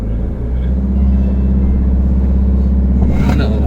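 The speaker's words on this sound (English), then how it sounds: "that felt like launch control" A BMW E60 M5 pulls away hard under launch control, its engine a deep, loud, steady rumble heard from inside the car with no talk.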